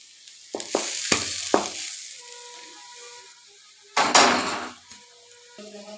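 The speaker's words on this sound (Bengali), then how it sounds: "শুকনা লঙ্কাটা সমস্ত মশলাটা দিয়া দিলাম ভালো করে কষায় নিব এখন" Dried red chillies and spices frying in a pan for a Bengali mashed bharta, with a steady sizzle broken by loud stirring scrapes and clatters of the utensil against the pan, close by and with no talk.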